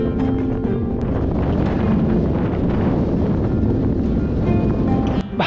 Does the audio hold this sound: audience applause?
no